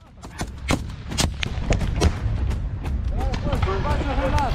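Battle sounds from the shooter Escape from Tarkov, where a thermobaric grenade is in play. A string of sharp gunshots and blasts starts sparse and builds into dense, rumbling fire, with voices talking over it.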